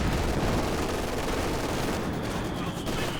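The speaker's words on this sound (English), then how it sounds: "big heavy mortar shell landing" A heavy mortar shell lands in the Company of Heroes video game amid a dense, loud barrage of booming blasts and rattling gunfire that fills the whole stretch without pause.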